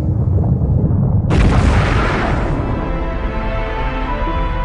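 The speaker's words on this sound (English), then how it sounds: "This is the fireball of the hot Big Bang." A deep, rumbling explosion effect stands for the fireball of the hot Big Bang, bursting suddenly to full loudness and then roaring on in a sustained, slowly fading wash.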